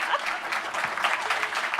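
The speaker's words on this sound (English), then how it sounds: "Let's give him a round of applause for that." An audience at a debate on the Bill of Rights applauds, a dense, steady clapping that fills the short stretch alone.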